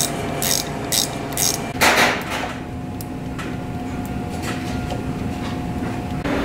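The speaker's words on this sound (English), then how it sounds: "Now we're going to install the two stainless steel bolts that hold that" Two stainless steel bolts go into a bushing housing with a ratchet, making a few close, sharp clicking bursts early on over a constant mechanical hum that continues throughout.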